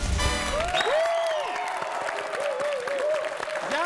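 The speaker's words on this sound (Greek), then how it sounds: "Ένα χειροκρότημα παρακαλώ." Audience applause on a Greek TV game show, a steady patter of clapping that runs throughout with a tonal music cue and some voices over it.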